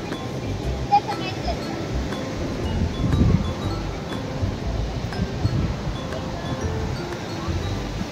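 Cold wind blows by the sea at night near a Trivandrum seafront resort, a continuous rushing gust with microphone buffeting and distant surf beneath it.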